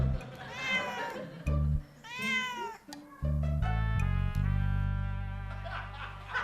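A cat meows close up, several drawn-out, rising and falling meows in quick succession over a low, steady background tone.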